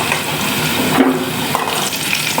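Potato pieces frying in hot oil, a loud, steady sizzle with a faint clink partway through.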